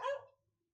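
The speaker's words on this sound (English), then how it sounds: "My mom's dog just keeps barking and I don't like it." One dog bark sounds from the next room, a single clipped woof that decays quickly into quiet.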